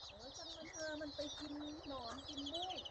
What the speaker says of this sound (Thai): อันนี้ก็เป็นไก่ เป็นไก่ที่เขาเลี้ยงปล่อยไว้นะ